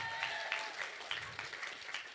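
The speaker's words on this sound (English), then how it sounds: "Have we done a round of applause for the beautiful couple today?" Wedding guests clap for the couple in a quiet, distant round of applause, a patter of scattered individual claps that rises and falls over a couple of seconds.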